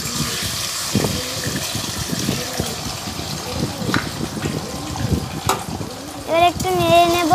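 An egg cracked into hot oil for an egg pasta dish fries with a steady sizzle and crackle. Voices talk over it, and the sizzle swells near the end.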